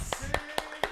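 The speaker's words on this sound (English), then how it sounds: "Applause!" A studio audience at a talk show claps in four sharp, evenly spaced bursts, close and fairly loud, over a faint background voice.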